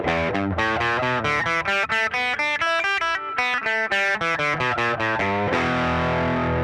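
An electric guitar with a gold Lace Sensor pickup plays through a distorted Fender amp: a quick run of loud picked notes in steady rhythm, ending on a sustained chord, with no voices.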